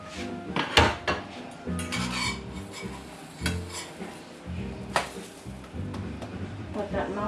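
A kitchen cupboard is opened and a dish is taken out, with a run of clattering crockery knocks and clinks, some sharp and close, plus faint pan sizzle in the background.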